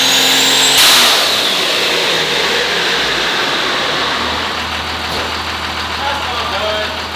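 A tuned car engine on a dyno in a shop revs hard and then settles into a sustained, loud mid-pitched drone, with some knocking and a steady hum throughout.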